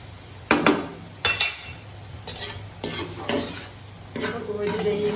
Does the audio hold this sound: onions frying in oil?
yes